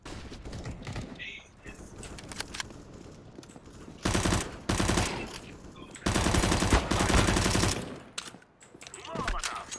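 Video game gunfire from a bomb-planting match, with bursts of rapid automatic fire alternating with quieter stretches and some softer mechanical clicks.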